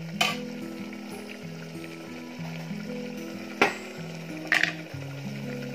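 Mutton curry frying in oil in a pan, a steady close sizzle with a few sharp scrapes and clinks of a utensil against the pan, no talking.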